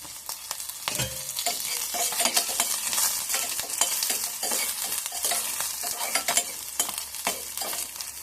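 Ginger and curry leaves frying in hot oil for toor dal sundal, a loud, continuous crackling sizzle with a sharp pop as the leaves hit the pan, with spoon stirring throughout.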